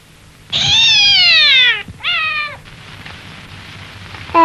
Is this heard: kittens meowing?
yes